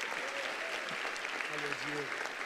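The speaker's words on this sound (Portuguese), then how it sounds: "Vamos aplaudi-lo," A church congregation applauds during a worship service, a continuous loud burst of clapping with faint voices or musical tones mixed in underneath.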